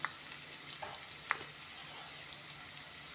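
Spice powder frying in a pan for a rohu fish curry with brinjal makes a soft, steady sizzle, broken by a few light stirring clicks.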